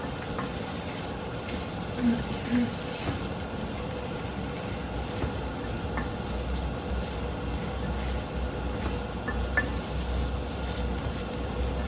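Potatoes and carrots stir-frying in a pan, giving a quiet, even sizzle with faint scraping from stirring underneath, low and continuous throughout.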